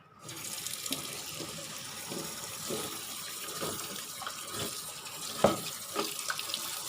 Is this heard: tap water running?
yes